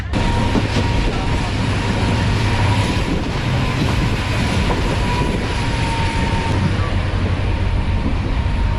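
Green Line Express passenger train running at speed in Sindh, heard from a carriage just behind the locomotive: a continuous loud rumble with rail clatter and a sustained hum, no talk.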